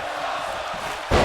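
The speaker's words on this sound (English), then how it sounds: "Crowd is screaming, "This is awesome,"" Video game arena crowd in WWE 2K22 roaring steadily, a broad dense wash of voices that swells sharply louder near the end.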